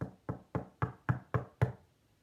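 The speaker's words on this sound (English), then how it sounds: "Cat walked over to the door and he knocked gently." Seven even, gentle knocks on a wooden door, close and distinct with a short ring after each, part of a children's read-aloud story about a cat; no talking.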